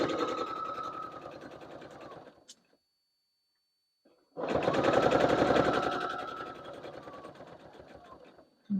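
Sewing machine stitching a seam on a fabric project bag, a close rapid mechanical chatter that runs, pauses for about two seconds of silence, then resumes steadily.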